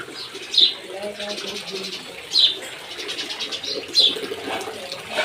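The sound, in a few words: house sparrows chirping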